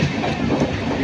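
The Kamrup Express rolls along with a dense, steady rumble of wheels and carriage noise, heard from on board, loud and continuous with no voices.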